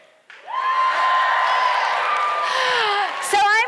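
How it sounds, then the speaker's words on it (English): An audience at an IdeaFestival Bowling Green 2018 talk cheers and whoops together in one sustained burst of crowd noise, lasting about three seconds before it fades. "I would hear a whole bunch of people cheer"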